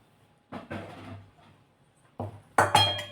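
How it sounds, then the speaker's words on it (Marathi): A metal kadhai set down on a gas stove in a home kitchen while a crab curry is being prepared, giving a few separate clanks and clinks, the last ones brighter and ringing, with quiet pauses in between. "आता कढई ठेवूया गॅसवरती"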